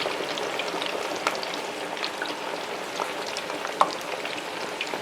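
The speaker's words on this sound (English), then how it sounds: "we're gonna let them spend some time in there frying up those French fries" French fries frying in hot oil in a home kitchen, a steady, even crackle and sizzle with scattered louder pops, close and continuous with no talking.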